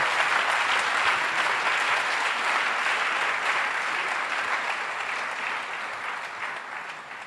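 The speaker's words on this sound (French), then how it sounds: "Et acclamez très fort. Clap louder." Church congregation clapping loudly during a worship service, a dense, continuous wash of applause that holds steady and then slowly eases off slightly toward the end.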